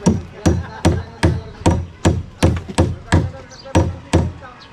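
Sharp hammer blows striking wood on a balcony build, about ten evenly spaced loud impacts in a steady rhythm, close and clear with no talk.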